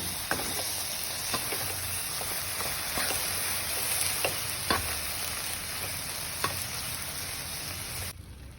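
Mangalore-style thondekayi kadle sukka, ivy gourd with chickpeas, being stirred in a pan: steady sizzling with a string of sharp spoon scrapes and taps against the pan, close and unbroken.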